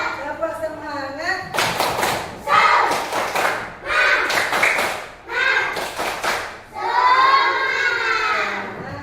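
A group of people performing tepuk semangat, a rhythmic Indonesian clapping chant, with bursts of quick claps and taps alternating with chanted voices in a steady pattern.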